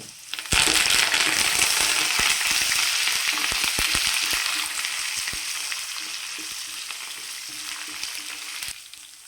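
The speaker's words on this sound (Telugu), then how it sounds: "ఈ తాలింపు వేగిందండి ఇందులో లాస్ట్ కరేపాకు వేసేసుకుందాము" Loud, steady sizzling of a spice tempering in hot oil, with curry leaves added, begins abruptly, with scattered crackles and pops that fade slightly before stopping near the end.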